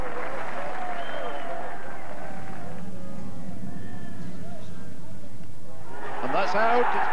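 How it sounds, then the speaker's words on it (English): A home crowd at a 1979 Essex v Yorkshire Benson & Hedges Cup semi-final cricket match applauds an Essex hundred, the sustained clapping and cheering rising at the start and again near the end beneath a commentator's voice. "Tremendous reception from the home crowd here for the Essex 100 going up."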